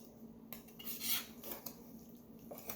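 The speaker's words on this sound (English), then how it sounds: "Let's make some slices here. Nice thin slices." Knife and metal utensils clink and scrape against a plate while cooked lamb is cut into thin slices, light irregular taps and scrapes heard close and quietly, with no speech.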